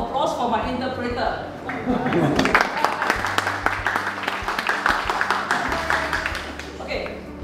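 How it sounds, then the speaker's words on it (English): Seminar audience applauding an interpreter, a sustained wash of many hands clapping at moderate loudness, with steady hum and some talk running underneath. "And also one more round of applause for my interpreter."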